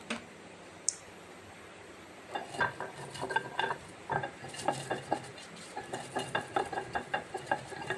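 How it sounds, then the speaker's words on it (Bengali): Roasted spices for a sweet-and-sour mango pickle are crushed by hand on a stone slab (shil), a small batch ground coarsely. It starts with near silence and one faint tick, then irregular close gritty knocks and scrapes grow steadier and busier. "যেহেতু অল্প আছে তাই সেই জন্য আমি শিলে বেটে নিচ্ছি।"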